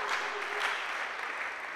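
Short burst of applause and cheering from a church congregation, fairly distant and soft, with a faint voice briefly rising within the crowd noise.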